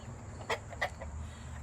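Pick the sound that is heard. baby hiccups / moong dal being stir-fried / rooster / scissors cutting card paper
rooster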